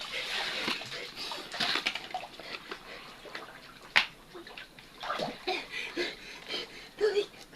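Water splashing and sloshing as a child is bathed with water drawn from a well, with uneven pours and splatters, one sharp splash, and talk in between.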